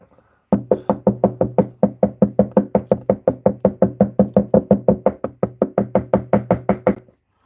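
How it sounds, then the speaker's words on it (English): A mallet strikes a chisel into a wood carving in a rapid, even run of about thirty sharp knocks, loud and close, with no talk over them. "Let's chisel out his nose."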